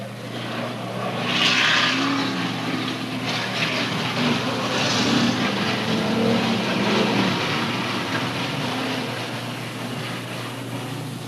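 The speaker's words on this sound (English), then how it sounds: "as the pack comes around for the first lap under green flag racing after that yellow caution period" A pack of race cars laps Oak Level Raceway in 1995 under green flag racing, a continuous roaring engine drone that swells and fades slightly as the field passes at a moderate distance.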